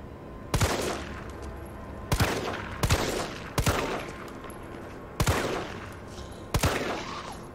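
Five loud, sharp gunshots fired at zombies in Resident Evil 3's Raccoon City demo, spaced irregularly over several seconds, each cracking out and ringing briefly before the next.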